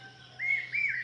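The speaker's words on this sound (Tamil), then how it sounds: "இதோ இந்த பறவையின் ஒலி காதில் கேட்டுக்கொண்டே இருக்கிறது" A bird chirps in the early morning in the village of Maraiyur near Mayiladuthurai, two clear rising calls in quick succession heard close and alone over a faint steady hum.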